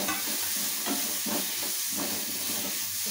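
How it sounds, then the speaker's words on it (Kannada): Tomato and ginger garlic paste frying in a pan with very little oil give a steady close sizzle and hiss, with soft stirring scrapes rising at regular intervals. "ಅದರಿಂದಾಗಿ ಸ್ವಲ್ಪ ಬೇಗನೆ ಫ್ರೈ ಮಾಡ್ತಾ ಇದ್ದೀನಿ"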